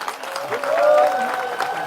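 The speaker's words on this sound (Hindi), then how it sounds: "एक बार सब ताली बजा दो अपने लिए" Pilgrims on a Navadwipa Dham parikrama in Mamgachi clapping their hands, a brief burst of crowd clapping mixed with voices and a tonal chant or murmur underneath.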